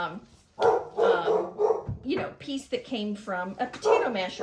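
A dog barks a few times nearby in a kitchen, short yips mixed in with someone talking.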